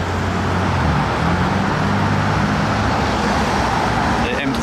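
A BMW M3 Touring rolls past on a street during a Gumball 3000 rally stop in France, its engine a steady, fairly loud rumble blended into continuous traffic noise, with people talking nearby.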